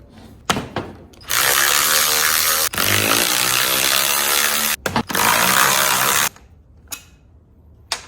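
A small battery-powered Harbor Freight tool runs loud and steady in two long bursts of a few seconds each, with a brief gap between them and short clicks and knocks before and after.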